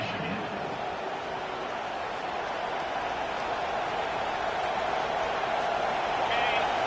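A home crowd roars in a college football video game on third down, a broad, continuous wash of noise that swells slightly toward the end.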